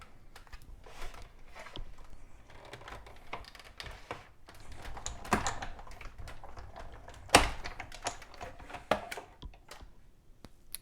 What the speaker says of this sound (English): run this all the way through the die cut machine